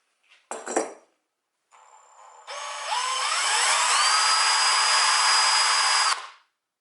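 After a couple of brief knocks, a power drill spinning a nearly balanced counterweight for a concrete power screed whirs up, its pitch rising smoothly before holding a steady high whine, then cutting off.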